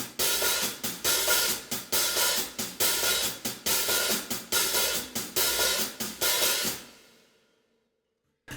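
Drum beat with 16th-note hi-hat where the third and fourth 16ths of each beat open into a sizzling wash, busy and continuous up close, then ringing out to silence near the end without any voice.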